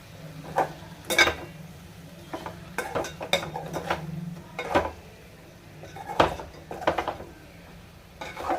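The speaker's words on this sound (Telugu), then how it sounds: "ఇలా కలుపుకొని ఒక రెండు నిమిషాలు మగ్గనిస్తాను" A spoon scrapes and clinks against a cooking pot while Telangana-style fish curry is stirred, a series of sharp metallic taps and scrapes at close range over a faint low simmer.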